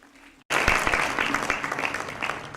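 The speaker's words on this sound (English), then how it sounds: "Let's welcome him with a round of applause." An evening awards ceremony crowd breaking into applause to welcome a speaker, a sudden burst of loud clapping after a quiet moment, continuing steadily and slowly fading a little.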